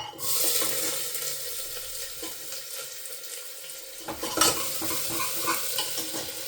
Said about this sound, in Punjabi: ਹੁਣ ਆਪਾਂ ਪਾ ਦਾਂਗੇ ਜੀਰਾ ਮਸਾਲਾ ਪਿਆਜ਼ ਵਗੈਰਾ